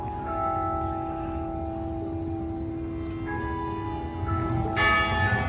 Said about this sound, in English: This is the one that was playing the bells. It's a church.